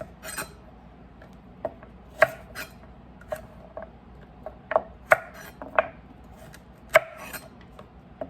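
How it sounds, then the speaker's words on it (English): Knife chopping off vegetable ends on a cutting board, as prep for carrots and smashed potatoes: a dozen or so sharp, separate cuts spaced irregularly over several seconds, close and fairly quiet, with no talking. "I'm just gonna chop off the ends there."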